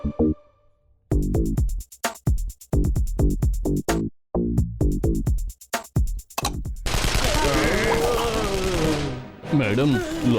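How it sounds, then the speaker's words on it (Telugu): A cartoon doorbell rigged to sound like gunfire fires rapid bursts of loud, sharp shot-like bangs. A dense, roaring burst of noise follows. "మేడం, లోపల తుపాకీ శబ్దం వినపడుతోంది."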